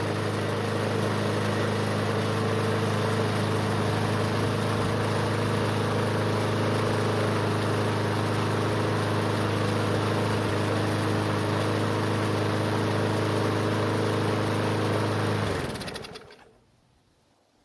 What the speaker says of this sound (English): let's try pull starting it and see what happens